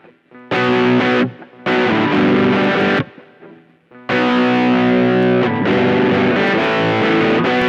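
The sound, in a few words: guitar tone through digital effects pedal with light reverb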